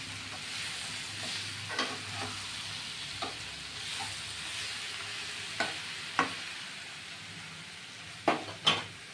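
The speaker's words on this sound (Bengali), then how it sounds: "দিয়ে এবার আমি সুন্দর করে কষাবো" Green jackfruit sautés with ground garam masala in a pan, a soft steady sizzle broken by several sharp spatula scrapes and clinks, heavier toward the end, close and fairly quiet.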